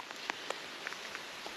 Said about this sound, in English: It's pouring rain. It's hailing!